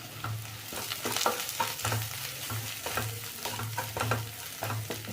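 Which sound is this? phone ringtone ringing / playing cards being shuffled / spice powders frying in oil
spice powders frying in oil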